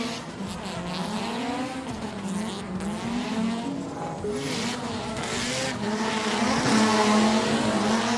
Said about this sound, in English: Wow, listen to that rotary engine.